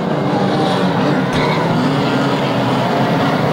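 Banger racing cars roar around the Kings Lynn track during the 2023 World Final, a dense, loud continuous engine drone with a brief sharp burst partway through.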